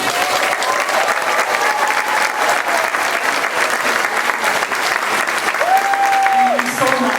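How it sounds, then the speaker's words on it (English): An elementary school audience gives a loud, sustained round of applause for Goodwill store and donation center workers. Many hands clap evenly throughout, with a short tone near the end. "so we can give them a round of applause."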